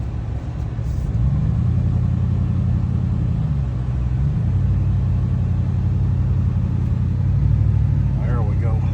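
A vehicle engine drones steadily at low pitch while maneuvering a trailer, its tone rising and dipping slightly as it works, with no other prominent sounds.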